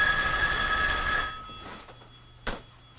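A telephone bell rings loudly with a steady metallic trill for about a second, then cuts off, followed by faint rustling and a couple of soft knocks.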